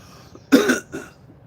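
One person gives a short, close cough after smoking, a harsh burst followed by a softer second hack, and then falls quiet.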